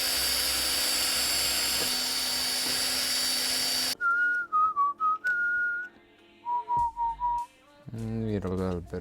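A power drill whirs loudly and steadily for about four seconds while drilling a hole to fit fender extenders, then cuts off, followed by high whistling tones and a voice talking.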